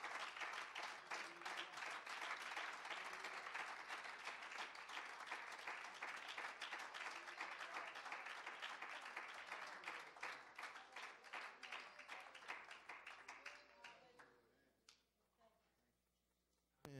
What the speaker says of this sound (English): won't you give him another hand clap of praise this morning?